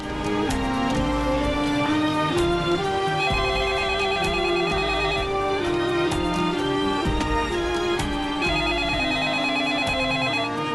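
A telephone rings repeatedly in bright electronic trills over dramatic background music, loud and steady for the whole stretch, with no voices.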